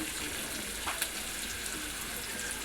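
Shredded cabbage fries in a hot pan, giving a steady, dense sizzle with faint stirring scrapes, close and continuous with no speech over it.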